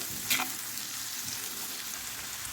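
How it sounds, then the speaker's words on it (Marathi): Chopped onions with salt frying in a pan for a street-style tawa egg masala, giving a steady, close broadband sizzle with a brief louder crackle near the start and no talking. "कांदा फ्राय होताना मीठ ना कांदा पटकन फ्राय होतो"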